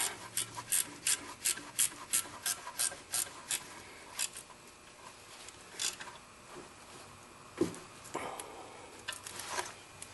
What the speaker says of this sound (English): then we tighten up this bolt, which is the adjustment bolt on top